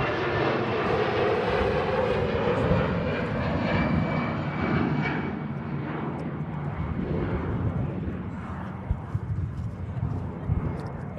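An aircraft at Manchester Airport roars steadily and loudly, its engine noise holding constant before easing slightly, with a few faint knocks in the background.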